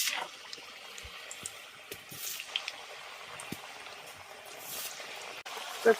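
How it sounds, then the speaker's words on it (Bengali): Palm-fruit pitha fry in hot oil with a soft, continuous bubbling sizzle and scattered small pops, with faint voices in the background. "এবার পিঠেগুলো ভেজে নেব"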